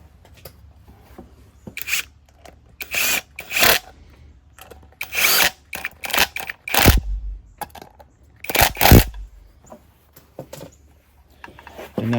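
A power drill drives the two main stator bolts back into a 110cc Chinese ATV dirt bike engine, short close whirring bursts of varied length, separated by quiet pauses and small metallic handling noises.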